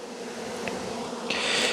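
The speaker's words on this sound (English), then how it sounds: "There's some bees here, don't have a home." Honeybees buzz steadily at close range, a continuous insect drone with a brighter buzz rising near the end.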